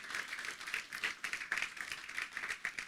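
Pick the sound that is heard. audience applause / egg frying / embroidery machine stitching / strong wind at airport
audience applause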